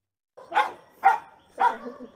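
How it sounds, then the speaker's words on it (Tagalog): A dog barks three times at close range in quick, slightly irregular succession, each bark short and fairly loud against a quiet background. "Aso kasi, ingay ng aso."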